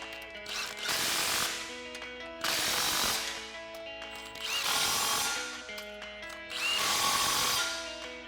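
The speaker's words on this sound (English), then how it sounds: "we're just going to grab our impact and 15mm socket. Tighten our 2 factory clamps first" An impact wrench with a 15mm socket tightens the exhaust clamps on a 2024-2025 Mustang GT during a Borla ATAK cat-back install. It gives four close, loud bursts of rattling hammering, separated by short pauses.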